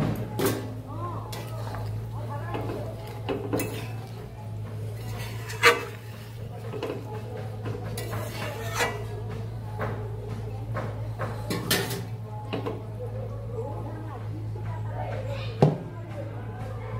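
Pot and spoon clink and scrape now and then as a curry is finished with garam masala, small sharp knocks scattered over a steady hum, with a voice speaking throughout.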